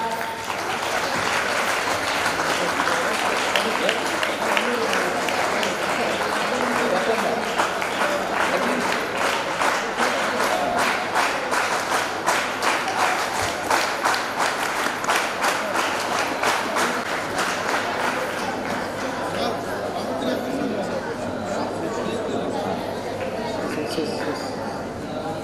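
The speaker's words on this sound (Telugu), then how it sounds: "Clap clap." Sustained applause from the crowd at a retirement function, many hands clapping in a dense, even patter for over twenty seconds, gradually softening toward the end, with voices faintly under it.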